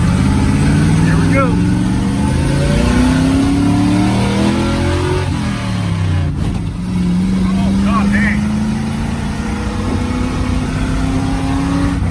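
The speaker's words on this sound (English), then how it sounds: "You hear everything in here rattling." Heard from inside a car with rattling windows and squeaky brakes, the engine revs up and shifts through gears under a loud, constant road rumble and cabin vibration.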